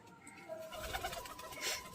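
Several racing pigeons, soaked and just back from a long flight, coo softly and steadily through a loft setting, with a rising burst of bird calls near the end; no talking.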